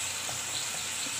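Tomato frying in hot oil in a pan for a ridge gourd curry, a steady close sizzle with faint soft pops and no voice.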